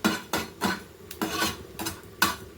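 Cinnamon sticks, cloves and cardamom pods frying in a pan, with a soft sizzle broken by several sharp bursts of stirring and utensil scrapes against the metal, close up, with no talking.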